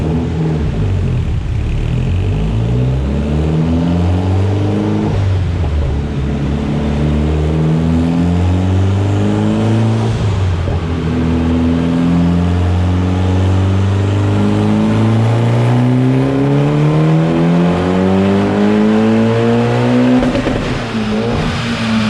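A turbocharged car on an E85 tune running about 75% ethanol accelerates hard through several gears, the engine note climbing and dropping with each shift, loud and close with no talking.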